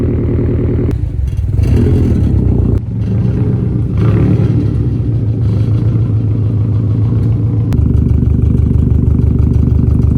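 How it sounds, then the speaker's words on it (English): A car idling with a rattling exhaust, a loud close steady drone with a buzzing metallic clatter riding on it and brief changes as the revs shift. "As you can tell, my exhaust rattles."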